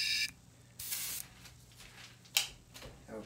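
An airbrush sprays paint onto a watercolor painting in short, close hissing bursts separated by quiet gaps, with a low steady hum underneath.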